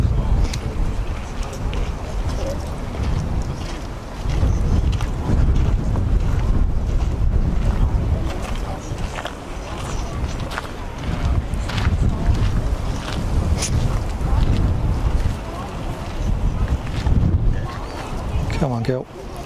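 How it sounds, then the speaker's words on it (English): Strong gusting wind buffets the microphone at Zurich Kloten Airport as a weather front arrives, a loud, continuous roar surging and easing throughout, with a person speaking briefly over it. "Wow, that is a hell of a breeze."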